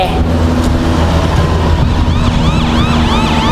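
A police siren wails in rising and falling sweeps over loud road and traffic noise, growing more prominent toward the end.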